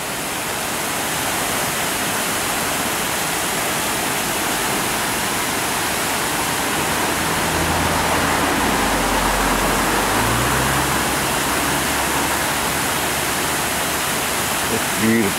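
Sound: water flowing over Middle Tyger River dam

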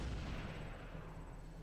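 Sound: gunshot in Halo video game

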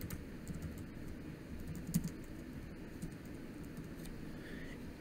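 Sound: typing on a computer keyboard

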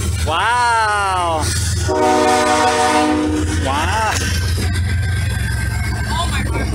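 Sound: long freight train passing

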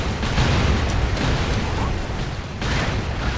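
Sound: explosions in the video game Expendabros

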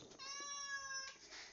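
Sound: cat meowing

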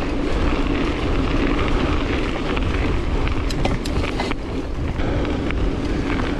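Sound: ice cold wind blowing on a mountain bike ride

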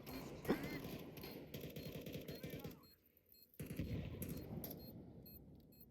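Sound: gunfire in the video game Counter-Strike 2

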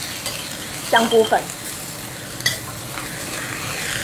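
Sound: stir-frying with oyster sauce in a wok

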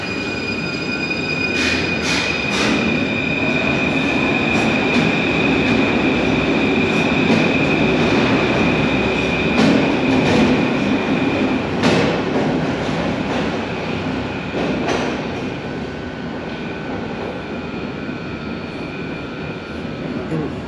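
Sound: Paris Metro train departing from the platform

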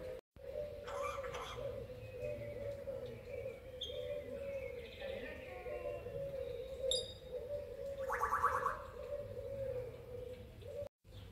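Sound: caged bird singing

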